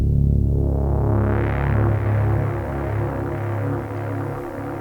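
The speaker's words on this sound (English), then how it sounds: "with the pedal doing all these delays, I can get these really interesting textural sounds" Synthesizer fed through two stereo delay effects, one on each side, building a repeating textural drone of stacked pulsing tones that throbs steadily and evenly throughout, moderately quiet with no voices.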